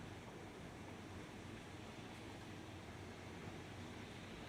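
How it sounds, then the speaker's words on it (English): Heavy rain pours outside as a dense, continuous hiss and wash of noise, steady and fairly loud with no breaks. "It's freaking pouring."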